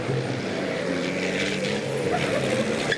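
Racing trucks competing at the Zolder circuit in the European Truck Racing Championship, a steady loud blend of engine drone and rumble with layered tonal whine, continuous throughout.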